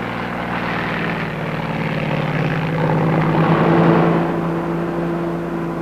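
Propeller plane flying, a steady droning engine hum with a strong buzzing tone that holds constant and swells slightly midway, loud and close with no voices.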